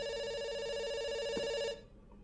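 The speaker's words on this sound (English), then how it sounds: "It's ringing." A telephone ringing on an outgoing call gives a steady electronic ring tone that runs unbroken for nearly two seconds and then stops, leaving a quiet line.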